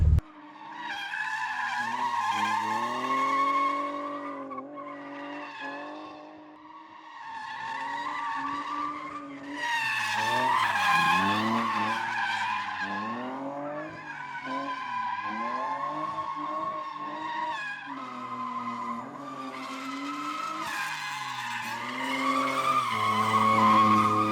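A rare BMW sedan drifting, its tires skidding and squealing in long wavering screeches that rise and fall with the engine over many passes, loud and fairly close.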